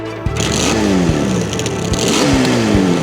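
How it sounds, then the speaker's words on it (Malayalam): A twin-cylinder, twin-carburettor two-stroke motorcycle with a 6-speed gearbox, a Yamaha RD350 or Rajdoot 350, revs loudly and continuously, its pitch sweeping up and down in repeated rising bursts close by. "India's first and only twin-cylinder, twin-carburetor, two-stroke motorcycle equipped with a 6-speed gearbox."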